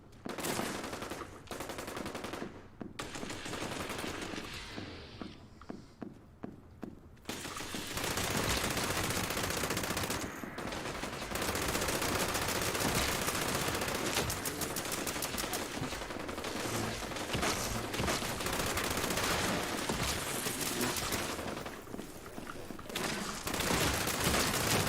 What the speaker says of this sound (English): I'm hearing more Gatling guns these days than ever